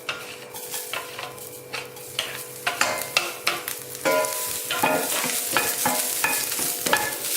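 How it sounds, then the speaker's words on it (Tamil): Crushed garlic fries in a little oil, a soft continuous sizzle punctuated by rhythmic scraping and tapping of a spatula stirring against the pan, close and steady with no voices. "இது வந்து அந்த பூண்டோட ஈரம்லாம் இல்லாதபடிக்கு நல்லா வறுத்துக்கணும்."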